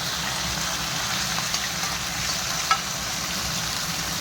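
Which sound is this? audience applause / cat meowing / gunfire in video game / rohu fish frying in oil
rohu fish frying in oil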